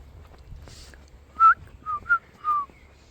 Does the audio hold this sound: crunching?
no